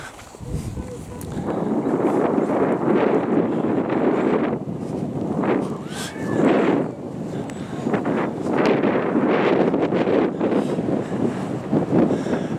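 Breezy, fairly cool outdoor wind buffeting the microphone in loud rumbling gusts that rise and fall, with a person talking over it at times.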